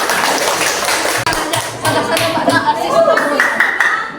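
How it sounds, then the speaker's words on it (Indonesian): A group of students claps together in a short burst of applause in a classroom, fairly close and loud, with a brief dip partway through. "Berikan tepuk tangan untuk teman-teman kita"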